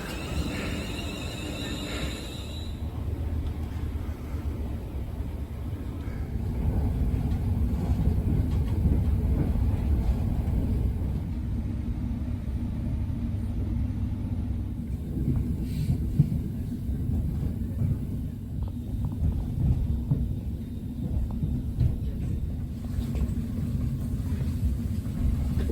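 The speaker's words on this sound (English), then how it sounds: "But here comes my train now." A train in Scotland bound for Glasgow rumbles in and runs steadily for a long stretch, a low continuous rolling roar with faint clanks and rattles, fairly close.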